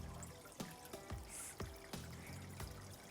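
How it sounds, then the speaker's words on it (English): Water poured from a ladle at a Japanese shrine purification basin, heard as soft trickling and dripping with repeated small splashes against a stone basin, faint and close with no talking. "1 scoop of water."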